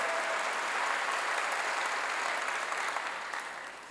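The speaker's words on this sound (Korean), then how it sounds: "박수로 하나님께 영광을 돌리는 거예요" A church congregation claps together in steady, dense applause that fills the room, holding loud and even before tapering slightly toward the end, with no voices standing out.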